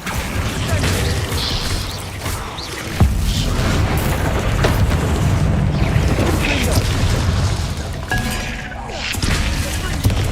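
Bombarda and Confringo spell explosions in the video game Hogwarts Legacy, a continuous rumbling battle mix with repeated booms and crashes, a sharp hit near three seconds, and a voice talking over much of it.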